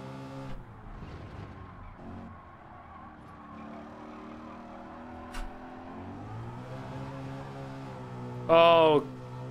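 A race car engine in Gran Turismo 7 drones steadily, its pitch rising and falling through gear changes, with a brief high squeal near the end.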